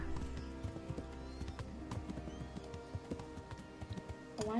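Horse hooves in the video game Kingdom Come: Deliverance make a steady, close clip-clop rhythm with a brief whinny near the end.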